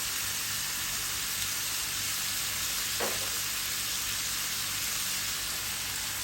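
Carrot and other vegetables stir-fry in a hot pan, a steady soft sizzle with a faint brief stirring scrape partway through.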